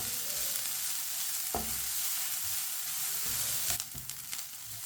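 Carrots fry in a pan with a soft, continuous sizzle while a spoon scrapes and stirs, giving several sharp clinks and knocks, near and fairly quiet.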